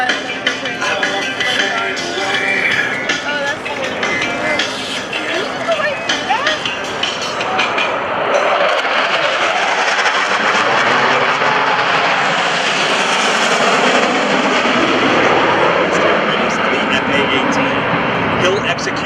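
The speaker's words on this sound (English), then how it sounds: "Lieutenant Tickle and Blue Angel number 6 turns his smoke on and attempts to overtake them at center point at airspeeds approaching 600 miles per hour" US Navy Blue Angels jet aircraft making a fast pass at a 2012 joint services airshow, a loud continuous roar that swells and sweeps across, with a public-address announcer talking over it.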